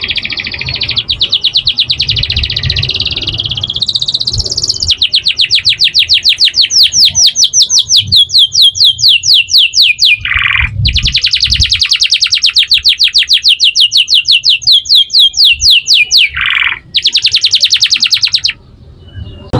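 Canary kept for song competition singing long, loud, close rolling trills and rapid chirp series, with brief pauses between extended phrases.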